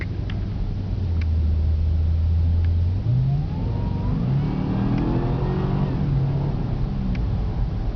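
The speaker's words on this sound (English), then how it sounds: "Car gets up and goes pretty good." A 2010 Cadillac CTS-V, a salvage car, accelerates hard: a loud engine drone climbs steadily in pitch through the gears, heard from inside the cabin with no talking.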